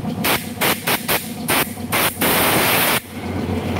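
A series of short, sharp spray bursts of petrol onto a motorcycle part hiss in an uneven rhythm, then one long hissing blast, loud and close.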